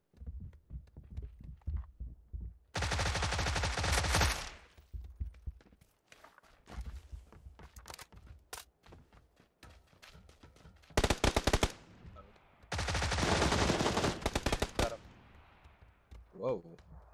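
Automatic gunfire in PUBG on the Sanhok map rips out in three loud, close bursts of rapid shots, separated by quieter stretches of footsteps and light clatter.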